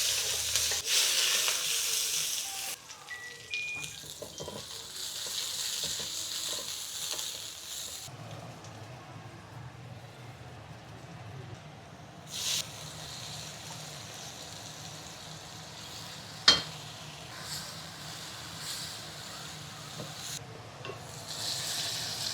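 Sliced onion and garlic frying in oil in a kadai, a steady soft sizzle with occasional stirring scrapes, louder at the start and settling to a quieter crackle, with one sharp clink midway.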